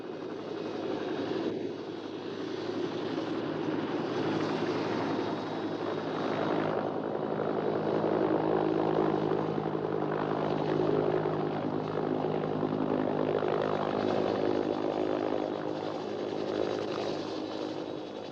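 A steady, loud mechanical drone of a 1960s military helicopter's rotor and engine at a jungle patrol base in Borneo, constant throughout with a broad rumbling hum and no voices.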